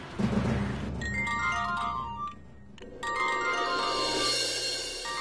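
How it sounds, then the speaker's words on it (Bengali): An incoming call's phone ringtone plays in a Bengali TV serial scene, a repeating melodic tone, clear and steady, with a short break midway before it resumes over a low background. "এই তো ওরাই ফোন করেছে।"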